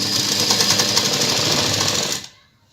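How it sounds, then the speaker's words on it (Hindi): A sewing machine stitches along the neck edge of a blouse, its motor running in a dense, rapid, steady whir at close range for about two seconds before stopping abruptly. "अब हमें इसके किनारे पर फिर से स्टिच लगा कर इसे फिक्स कर लेना है।"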